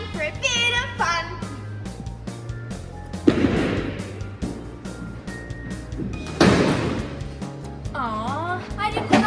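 Ten pin bowling balls strike pins at an alley in Devonport, Tasmania, producing two loud crashing bursts a few seconds apart, with children's voices chattering and squealing around them.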